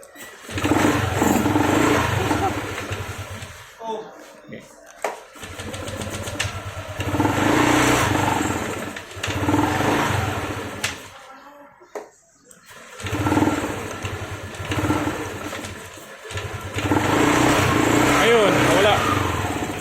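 A Yamaha Aerox scooter with an error 46 fault starts and revs unevenly, misfiring with the engine cutting out between bursts, close by, while people talk.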